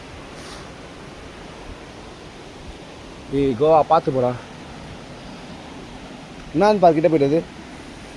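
Water rushes at the Tada waterfalls as a steady, even roar filling the background, while someone speaks in two short bursts over it.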